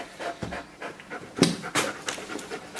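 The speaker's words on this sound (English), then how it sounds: "Sorry, I got hold of a dog." A dog pants close by in quick, uneven breathy bursts for a few seconds, with no talk over it.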